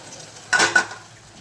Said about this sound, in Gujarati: બટેકા આપણા સોલાઈ ગયા છે ને હવે વઘારવાના છે